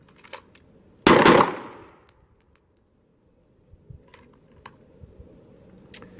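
A single loud pistol shot cracks out on an outdoor shooting range, fired at a target from the 3-yard line, its sharp report decaying over about a second, followed by faint clicks and handling noise.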